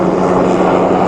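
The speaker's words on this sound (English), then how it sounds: "we got like a helicopter here" Low-flying helicopter passing close over Raleigh, North Carolina, near a DJI Mavic Pro drone, heard as a loud, steady, broadband rotor and engine roar that fills the whole moment without letup.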